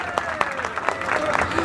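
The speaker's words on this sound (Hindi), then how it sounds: "इनके लिए जोरदार ताली बजाओ यार" An audience crowd at a public gathering applauds with steady, dense clapping and a few sharper individual claps, moderately close, over a short stretch with a voice faintly present.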